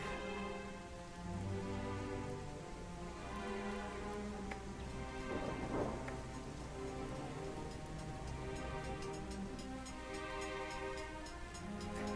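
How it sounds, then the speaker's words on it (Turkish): Steady rain falls in a detailed city-building management game, a dense, even patter that holds at moderate loudness for the whole stretch, with no distinct thunder clap standing out. "Yağmur yağınca her şey perişan oldu."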